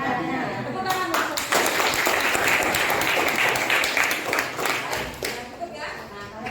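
Students in a school biology lesson clap for a presenting group, crisp individual claps swelling into a brief round and then tapering off, with some voices mixed in.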